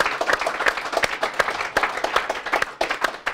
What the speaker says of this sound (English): Please join me in giving a round of applause to Kirby Jones.